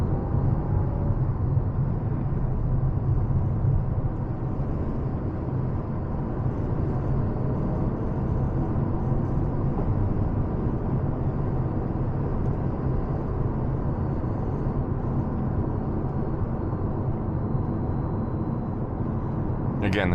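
A 2024 Fiat 500e electric car driving in town, heard from inside the cabin as a steady low road and tyre rumble with a faint high whine, continuous and even throughout.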